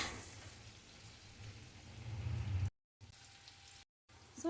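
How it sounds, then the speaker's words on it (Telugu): Paneer cubes fry in hot oil in a pan for a dhaba-style paneer masala curry, a soft, steady sizzle that swells slightly before brief breaks of silence. "ఆ పన్నీర్ యాడ్ చేసుకుందాం. వీటిని కొంచెం 2 మినిట్స్ అట్లా వేయించుకొని పక్క తీసేసుకుందాం."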